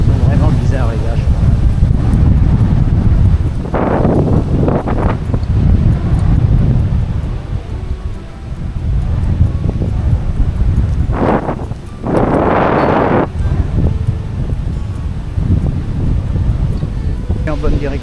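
Coastal wind at Mont Saint-Michel buffets the microphone in loud, rough gusts that rise and ease, with a few brief muffled voices breaking through.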